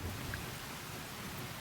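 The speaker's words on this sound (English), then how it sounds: "it was raining. Hard." Steady hard rain with a low thunder rumble in the horror game Cabin Fever, a faint continuous wash of rainfall on surfaces, no voices.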